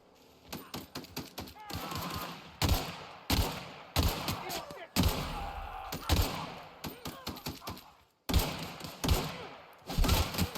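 Rapid bursts of gunfire from The Outer Worlds video game, sharp repeated shots and thuds in clusters separated by brief pauses, loud and close throughout.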